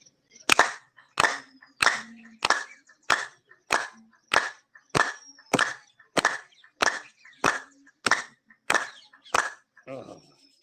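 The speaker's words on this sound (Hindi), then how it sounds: "बजा लेते हैं ताली फिर से।" A group claps hands in unison during an outdoor yoga session, about fifteen sharp, evenly spaced claps in a steady rhythm, loud and close, with no talking.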